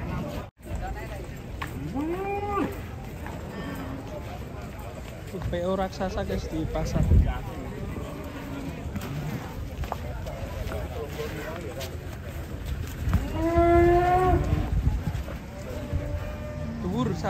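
Jumbo cattle at an Indonesian livestock market let out several deep, drawn-out moos at close range, mixed with steady crowd chatter and people talking throughout.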